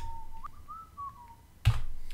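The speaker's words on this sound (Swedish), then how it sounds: "Jag vet inte vad det är jag visslar" A person whistles a short, wavering melody near the mic, followed by a sharp snap or tap at the end.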